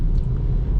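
Steady low cabin rumble inside a 2022 Isuzu D-Max LS-E 4x4 pickup on the move, a loud continuous engine and road drone with no talking.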